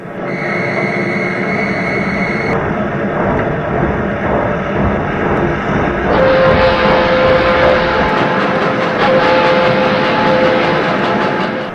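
A steam boat train pulls away from London with a steady rolling roar and a sustained whistle-like tone, loud and continuous throughout.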